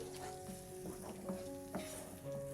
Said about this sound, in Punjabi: ਦਹੀਂ ਨੂੰ ਮਸਾਲੇ ਦੇ ਨਾਲ ਚੰਗੀ ਤਰ੍ਹਾਂ ਮਿਕਸ ਕਰਕੇ ਭੁੰਨ ਲਵਾਂਗੇ